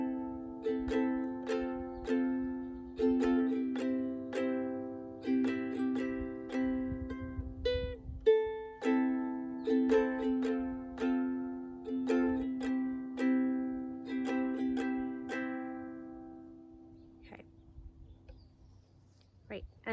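A ukulele strums a chord progression moving to F and then C in a steady down-down-up pattern, with bright repeated attacks close up and one brief pause midway before the strumming tails off.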